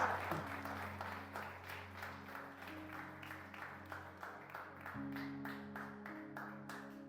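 Church congregation applauding during a Spanish-language service, a soft, steady patter of many hands lasting throughout, fairly distant and faint with a low sustained organ or keyboard tone beneath.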